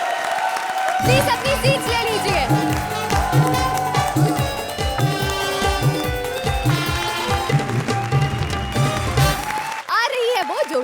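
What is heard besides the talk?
studio audience applause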